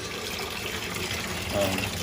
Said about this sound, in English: we'll open up the hot water wide, and we'll see what that looks like